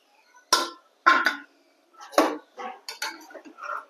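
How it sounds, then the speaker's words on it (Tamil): Boiled sweet potato is stirred into palm jaggery syrup in a pan, giving a few distinct clanks and scrapes of a metal spoon against the pan, close and clear, with no talking. "சீனி கிழங்கு அவிச்சு எடுத்தாச்சு ஃப்ரெண்ட்ஸ் இங்கே கருப்பட்டி பாகும் ரெடி ஆயிடுச்சு இதுக்குள்ளே நம்ம போட்டு கலந்துக்கலாம்"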